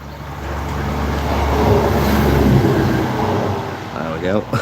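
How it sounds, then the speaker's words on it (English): Train rumbling past in the open during a morning walk, a broad roar that swells to a peak midway and then fades, with a brief voice near the end. "Oh, 1 second, train coming."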